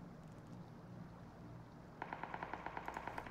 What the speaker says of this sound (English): Someone else was shooting.